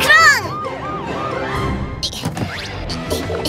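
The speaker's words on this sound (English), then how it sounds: "The Pororo ambulance's siren rang loudly." Pororo's cartoon ambulance wails its siren in a wee-woo sweep, loud and close, with clattering bumps and other effects mixed in toward the end.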